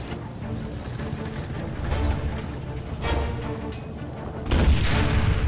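Tank cannon fire in the video game Enlisted, a battlefield shooter: heavy booms over constant rumbling combat noise, with one loud close blast near the end and no speech.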